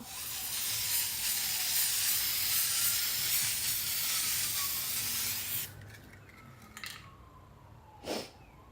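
Spray paint hissing steadily onto a metal wash tub in a heavy back-and-forth coat, loud and close for about five seconds, then quieter with a brief second burst.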